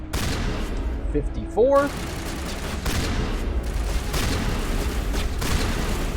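Gunfire from Mass Effect 1 Legendary Edition on Insanity difficulty: dense, continuous shooting that fills the whole stretch, with a voice briefly speaking over it.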